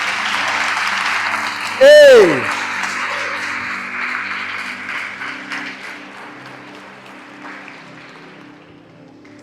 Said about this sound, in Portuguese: Dá uma salva de palmas à Virgem Maria.